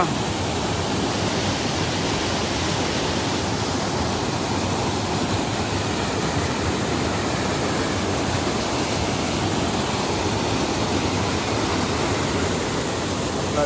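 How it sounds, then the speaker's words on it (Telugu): Steady, loud rushing roar of the Kaigal waterfall continues without a break, a dense broadband wash with no voices. "భలే పడతాయి నీళ్ళు మాత్రం ఫుల్"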